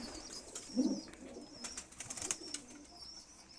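Pigeons in a breeding loft coo softly while bathing, one low coo standing out early among faint chirps, light splashing and wing flutters at a distance; quiet throughout with no talk.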